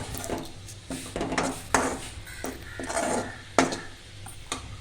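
A spoon scrapes and knocks against a cooking pot of curry with onions in a series of irregular clinks and rubs, close and moderately loud, with no talking.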